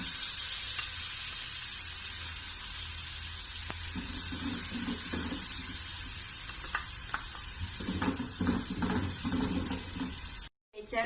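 Onion and garlic fry in a pan for a Peruvian tarwi cream soup, with a steady sizzle, intermittent stirring scrapes and clatter, and a brief dropout near the end.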